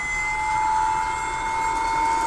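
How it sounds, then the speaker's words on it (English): Steady jet engine whine with sustained high tones over a broad roar, from a Boeing 767 airliner in a video game, holding loud and even throughout. "Sounds like a freaking jet."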